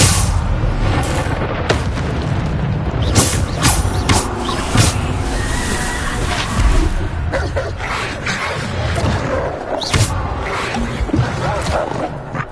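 Bombarda explosion spell effects in a video game, a string of loud booming blasts and crackling bursts over a dense, busy game soundscape throughout, with a voice briefly present.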